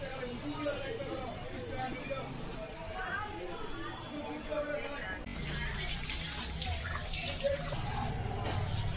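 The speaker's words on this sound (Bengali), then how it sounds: "দেখো, এবার চুলটাকে ধুয়ে নিচ্ছে।" Water runs steadily from a tap or shower head while hair is washed at a beauty parlour, a soft continuous splash at moderate distance, with someone talking over it.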